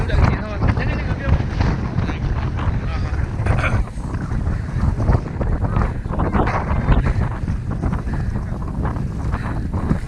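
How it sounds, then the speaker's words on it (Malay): Strong wind gusts buffet the microphone on a snowy mountain in Germany, a loud continuous roaring rumble with rushing surges throughout, with no clear speech. "Angin kuat."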